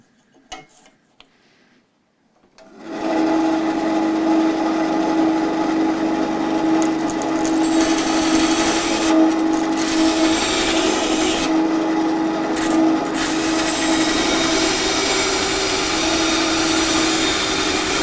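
A piece is cut off an acrylic sheet for an LED-lit sign. After a few quiet seconds comes a loud, continuous rasping, grinding sound that stays steady for about fifteen seconds, close by, with no voices.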